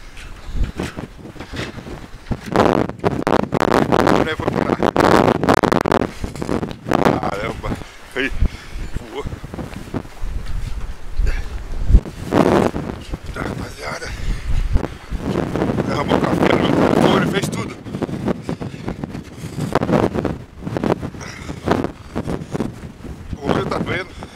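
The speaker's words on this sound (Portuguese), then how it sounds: "O vento tá muito." Strong gusting wind on a snowy mountain road, buffeting the microphone in loud roaring surges that rise and fall, with a person speaking at times.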